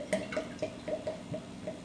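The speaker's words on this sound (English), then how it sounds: "fill it with water." Water runs into a container for saline drops, a soft liquid trickle with light glugging and dripping pulses, close and fairly quiet.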